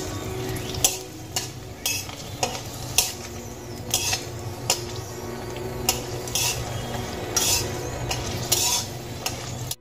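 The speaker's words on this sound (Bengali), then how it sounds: "এবার আমি এই তেলের মধ্যে ভেজে নেব বেশ কয়েকটা শুকনো লঙ্কা।" Dried red chillies fry in hot oil on a low flame for yardlong-bean bharta, making a continuous sizzle broken by frequent sharp clinks of a spatula against the pan.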